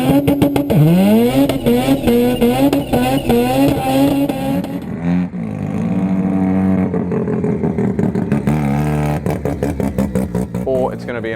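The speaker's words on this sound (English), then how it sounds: "It needs to fire up the rotor and all hell breaks loose." A rotary engine in a hybrid car barks to life and revs hard, loud and close, rising and falling through several throttle blips with a voice talking over it.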